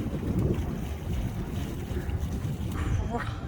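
Wind gusting at about 15 knots over a sailboat motoring through a very narrow channel, a steady rumbling buffet of wind noise across the microphone with low boat and water sounds beneath.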